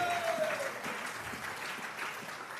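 A church congregation claps together in a sustained burst of applause, steady dense patter filling the room for a few seconds, with a faint tone drifting briefly at the start.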